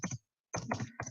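Quick bursts of clicks from typing on a computer keyboard, with a short pause between two clusters of keystrokes, close and fairly soft.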